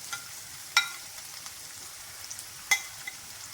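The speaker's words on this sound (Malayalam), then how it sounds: "നന്നായിട്ട് വഴറ്റുക" Curry leaves, crushed ginger and garlic sautéing in a pan give a faint, steady sizzle with a couple of sharp stirring clicks against the metal.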